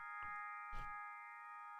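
Two soft struck notes from the Bad Cat Media Indi Glock glockenspiel sample, processed with reverb, delay and reversed reverb and delay, chime quietly and leave a long, shimmering sustained ring.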